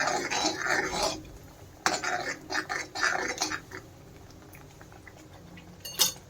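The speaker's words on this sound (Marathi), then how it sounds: "त्याच्यामध्ये आता हे वाटण चांगलं आपल्याला हे परतून घ्यायचं आहे चांगलं तेलामध्ये" Ground wet spice paste is sautéed in oil in a pan for a fresh cashew curry, heard as intermittent bursts of sizzling and utensil scraping that fade into a quieter, low simmering hiss.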